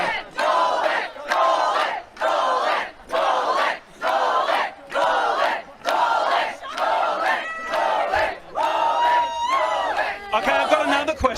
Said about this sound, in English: So a very happy crowd there.